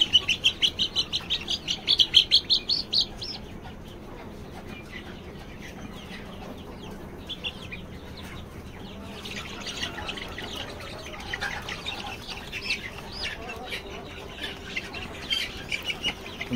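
Chicks on a poultry farm peep and cheep inside a covered box, with a busy burst of shrill chirping at first that settles into quieter, scattered calls and occasional squawks.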